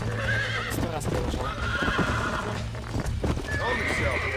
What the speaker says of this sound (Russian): Моя лошадь за мной идет, пускай.